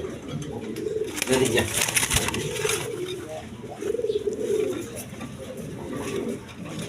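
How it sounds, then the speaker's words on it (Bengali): A pair of big red Gorra pigeons cooing in soft repeated low calls close by, with someone talking over them and faint background bustle. "এখানে এক পেয়ার গররা কবুতর আছে একদম বিগ সাইজের রেড কালার গররা"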